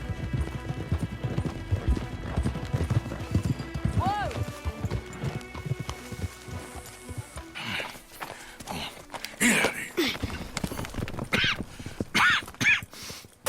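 Horse hooves clip-clop on the ground in the Red Dead Redemption 2 video game, a steady walking rhythm with a brief whinny, under characters talking and background game sounds.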